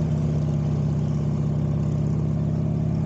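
A Buell motorcycle engine runs steadily at a low, even throb, loud and close with a constant pulsing rhythm and no other sounds.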